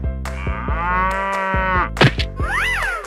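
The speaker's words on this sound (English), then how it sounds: "Cow." A cartoonish cow in a 3D animal sliding video game gives one long, loud, sustained moo over an upbeat game music loop, followed by a short thwack and a rising-falling game chime.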